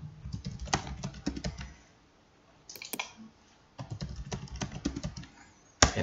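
Quick bursts of typing on a computer keyboard while entering a search in a digital library app, with clustered key clicks, a pause, then more keystrokes and a final louder key press, close and alone.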